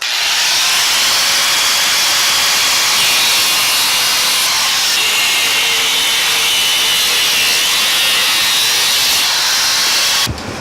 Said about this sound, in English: What are you cutting up here? The engine brackets.